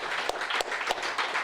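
A party congress audience breaks into steady applause, a dense wash of many hands clapping in a hall, brief and continuous.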